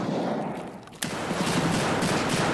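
A single sharp gunshot from the shooter game Escape From Tarkov cracks out near the middle, set against a dense, noisy game background with no speech.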